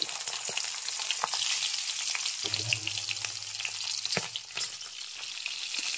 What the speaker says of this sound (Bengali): এখন মাছের মুড়োগুলো ভেজে নিতে হবে।